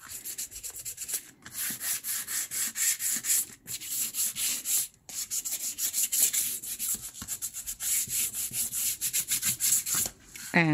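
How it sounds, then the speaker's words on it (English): Steady rhythmic sanding rasps back and forth across a newspaper-made cover, close and continuous, with a few brief pauses between strokes. "take your sanding tool and just sand it"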